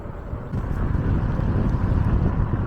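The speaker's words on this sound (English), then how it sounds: "the wind has picked up and it's gone really windy with a gust" Gusty wind roaring steadily over the microphone while riding a Cyrusher Kommoda e-bike toward Pepper Woods, a broad low rumble that swells after the first half-second and holds loud throughout.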